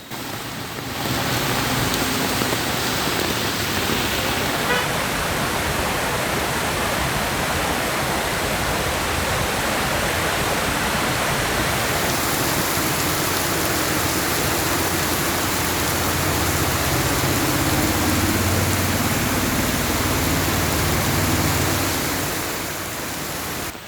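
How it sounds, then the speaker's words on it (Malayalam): Heavy rain pouring over a town in Muvattupuzha, Kerala, flooding the roads: a dense, steady roar of downpour that holds at the same loud level throughout, with no voices. "നഗരത്തിൽ ഇന്ന് വൈകിട്ട് നാലോടെ പെയ്ത ശക്തമായ മഴയാണ് വെള്ളക്കെട്ടിന് ഇടയാക്കിയത്"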